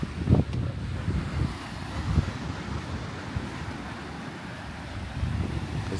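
Steady wind gusts and rolling surf wash over an island beach in a continuous broadband roar, with a few louder buffets against the microphone.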